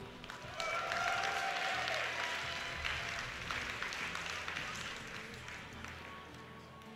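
A crowd at a StarCraft 2 match between TLO and Huk cheers and applauds in a broad, sustained roar that swells early and slowly fades over several seconds.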